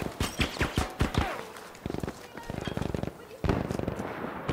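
Gunfire in the video game Battlefield V: a rapid burst of sharp, loud shots at the start, then further clusters of quick crackling reports, close and punchy, with a voice talking over parts of it.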